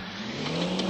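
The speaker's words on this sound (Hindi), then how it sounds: "180 की स्पीड में भागती है" Car engine revving at high speed in a 3D car simulator video game, a steady droning hum that swells slightly louder toward the end.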